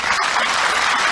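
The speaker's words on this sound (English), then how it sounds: "The FBI graduates are applauding it." Crowd of FBI Academy graduates applauding, a dense, steady wash of clapping that fills the short moment with no voices heard.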